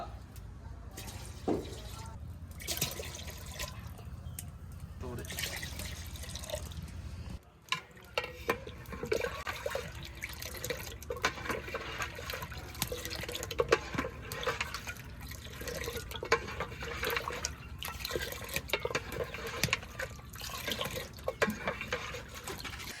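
Water poured from a mug into cow milk in a pot, with irregular splashing and trickling close by throughout, plus clattering handling noises.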